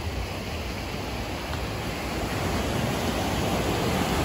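Sea surf on a beach in Alanya, Turkey, a steady broadband wash of waves rolling in without pause, fairly loud and even throughout, with no voices.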